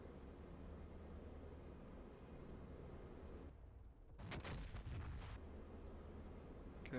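A bomb goes off in a flight combat game set over Normandy: a sudden heavy blast with a short rumbling tail cuts through a constant aircraft engine drone after a brief lull. The whole mix is faint.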